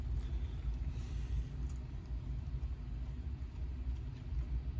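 Model railroad cars roll along the track with a continuous low rumble, steady and close throughout, with no voices.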